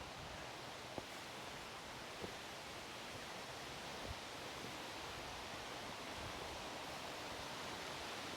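A mountain creek rushes over rocks at a trail crossing, a steady, fairly quiet wash of water with a few faint knocks and footsteps mixed in.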